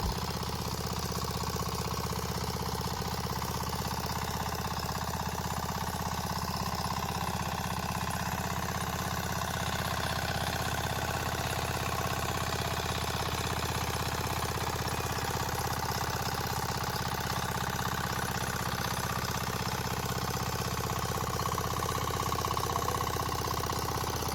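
A tractor engine runs steadily at a low, even drone, continuous and unchanging throughout, with no voices.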